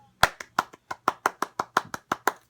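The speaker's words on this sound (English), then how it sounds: "Golf clap." About a dozen light, evenly spaced hand claps from a single person, crisp and close, in a slow, polite golf-clap rhythm with nothing else around them.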